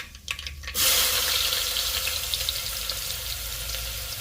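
Finely chopped medium onions dropped with asafoetida and cumin into hot oil for a green pea curry, a sudden loud hiss that settles into steady close frying sizzle after a couple of faint knocks.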